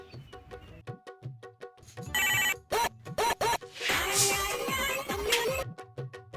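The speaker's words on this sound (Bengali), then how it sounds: "এবার ও অভিজিৎ একটা ফোন দেই" A telephone rings in several loud bursts of electronic trilling, with brief gaps between, mixed with other clattering sounds and music-like tones.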